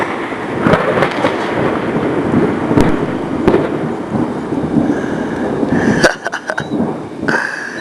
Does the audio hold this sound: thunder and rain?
yes